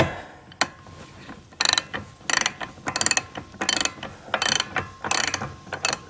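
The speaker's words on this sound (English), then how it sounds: "I'm drawing in the bolt right now." A ratchet wrench draws a bolt through a rudder pintle and gudgeon fitting, close, loud bursts of rapid clicking repeated in regular strokes with short pauses between, no talking.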